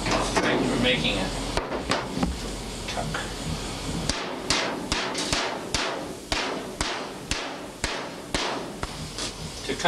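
A hammer strikes copper sheet being shaped for a sculpture, a series of sharp metallic blows that settle into a regular rhythm, close and clear, with someone talking over the earlier part.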